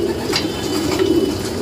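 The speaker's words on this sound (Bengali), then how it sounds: "আপনারা জানেন আমাদের এখানে অসংখ্য কবুতর রয়েছে" Racing pigeons in a loft give soft, continuous low cooing, close and layered from several birds, with no talking over them.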